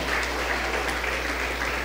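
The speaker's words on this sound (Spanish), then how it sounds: "Denle un aplauso al Señor, hermano." A church congregation applauds, a dense, continuous wash of clapping heard at moderate distance over a low steady hum.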